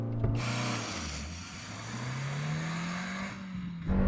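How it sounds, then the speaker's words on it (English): A Suzuki Jimny's small engine revs hard and climbs steadily in pitch as it launches, loud and close, with a brief drop before rising again. "listen to that engine sing. Or should that be scream?"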